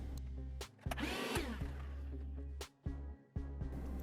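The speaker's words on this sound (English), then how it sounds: "I start marking my 2 spots to drill for shear pins" A power drill whirs in bursts, drilling holes for shear pins, starting and stopping several times with short pauses, close and fairly loud.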